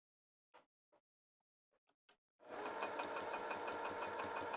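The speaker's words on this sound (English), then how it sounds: "So I'm going to lay this on top of this and sew it down." Several soft isolated taps and clicks give way to a home sewing machine stitching fabric for lounge pants, running in a fast, even mechanical rhythm, close and steady to the end.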